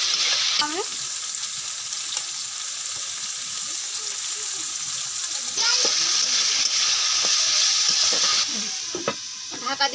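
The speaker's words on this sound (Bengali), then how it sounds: "উচ্ছে আর আলুটা আমি কড়াইয়ের মধ্যে দিয়ে দিলাম।" Bitter gourd and potato fry in a hot wok with a continuous close sizzle and occasional stirring scrapes. The hiss swells louder for a few seconds midway, then settles back.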